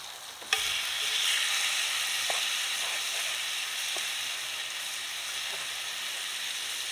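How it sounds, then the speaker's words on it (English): Loud, continuous sizzling and hissing of chicken frying on a hot grill, steady throughout with a few faint clinks. "You can hear it sizzling."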